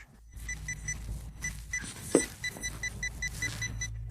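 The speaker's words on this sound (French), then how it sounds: "Alors, prenons un pointeur de pain. Un petit détecteur de métal." A small pinpointer metal detector probes snow outdoors, sending out a rapid train of thin, regular electronic beeps close to the mic, with faint rustling and handling noise beneath.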